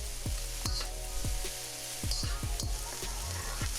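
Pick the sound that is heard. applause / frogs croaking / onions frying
onions frying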